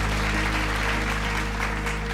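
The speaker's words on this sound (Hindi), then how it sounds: "तो मैं मानता हूँ एक बार जोरदार ताली ITF के लिए भी बजनी चाहिए" Loud applause for ITF at the Singing Grand Finale of the India's Talent Fight reality show, a steady wash of clapping throughout over a low constant hum.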